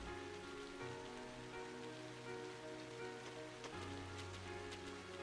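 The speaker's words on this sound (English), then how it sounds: "It's raining, nice." Steady rain falls in the video game Trails of Cold Steel, a faint, even patter under a soft sustained music bed with no talking.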